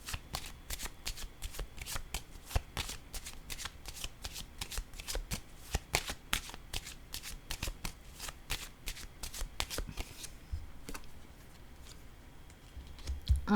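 Tarot-style cards handled and laid down one after another, giving a rapid, steady run of crisp flicks and slaps close up, with a softer, sparser stretch near the end.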